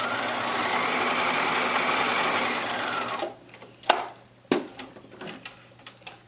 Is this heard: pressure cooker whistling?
no